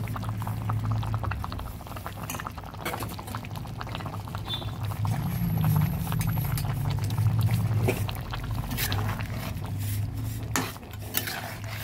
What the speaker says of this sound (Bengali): জলটা ফুটে উঠেছে, ফুলকপি আলুগুলোও সিদ্ধ হয়েছে।